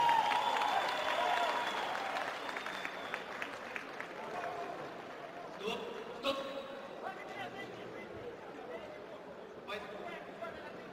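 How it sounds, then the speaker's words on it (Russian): Applause from an arena crowd at a women's MMA bout, loud at first then fading into scattered claps and chatter, with voices heard over it. "Дамы и господа, аплодисменты!"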